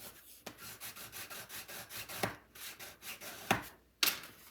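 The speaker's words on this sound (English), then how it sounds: "open that up to flatten it out and then burnish from this side" A flattened paper gusset is burnished with repeated rhythmic rubbing strokes, close and moderate in loudness, punctuated by a few sharper taps or clicks near the end.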